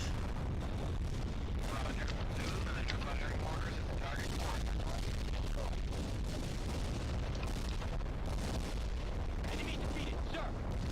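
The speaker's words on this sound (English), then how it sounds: "Right artillery barrage" A dense, continuous artillery barrage in the World in Conflict video game, with overlapping booms and rumbling blasts filling the whole stretch at a steady, heavy level.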